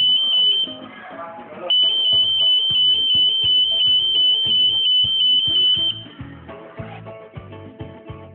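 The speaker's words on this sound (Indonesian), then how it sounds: "tekan tombol ini dalam waktu yang lama, sehingga alarm berbunyi" A steady high-pitched emergency alarm tone from an elevator rings loudly in two long bursts, pausing briefly between them, over a busy background of other sounds.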